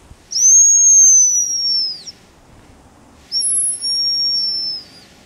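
Two drawn-out, high, thin whistles from a hazel grouse decoy imitating the female's call, each lasting about two seconds with a short pause between, clear and close with no talk.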